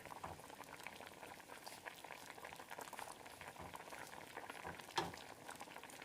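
Steady bubbling of blueberry jam boiling in a pot, a continuous close-up simmer with soft pops and one sharper pop near the end.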